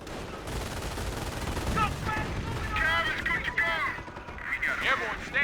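Gunfire and artillery in the Company of Heroes World War II strategy game, dense continuous volleys and distant booms, with game voices and whistling tones mixed over the battle.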